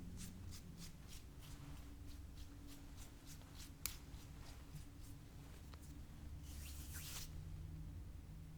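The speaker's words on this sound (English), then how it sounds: "So I'm going to draw 2 cards for us." Cards being drawn and handled from a deck during a quiet I Ching reading, soft repeated papery slides and flicks close up, with a brighter rustle near the end.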